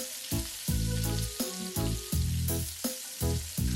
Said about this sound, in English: now you want to add your shallots to the pan, and you want to cook those until they're soft